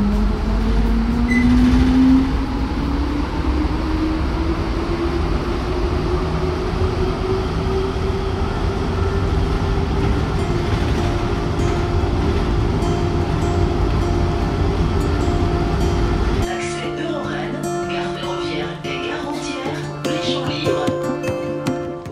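A Rennes metro line B train rides toward Via Silva, its steady rolling rumble and rising motor whine filling most of the ride before the sound shifts abruptly near the end, likely as it slows or enters a station.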